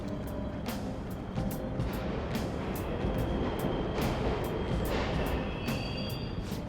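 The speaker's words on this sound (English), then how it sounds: "The trains are totally running!" Subway trains run in the game Persona 5 Royal, giving a continuous rumbling, clattering rail noise with periodic clacks and faint squeals, steady and fairly loud throughout.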